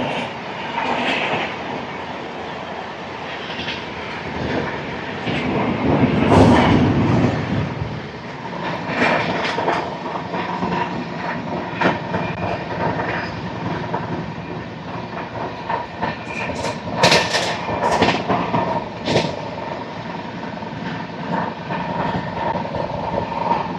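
The 12655 Navjeevan Superfast Express rushes past close by, a loud, sustained roar of wheels and carriages with rhythmic clatter and rising bursts of rattling, holding steady for over twenty seconds with no talk.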